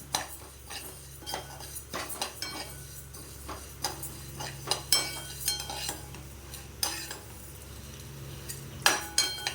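Lentils for paruppu podi are dry roasted without oil in a pan over moderate heat, with repeated light clinks and scrapes as they are stirred at an uneven, steady pace.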